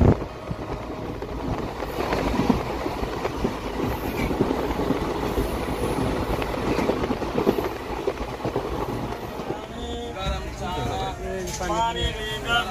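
A moving passenger train on a morning trip, with steady rolling rumble and rail clatter throughout, loud and continuous; toward the end, voices of vendors and passengers calling rise over the train noise.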